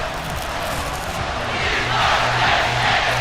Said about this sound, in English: You can hear the We Are Penn State chant.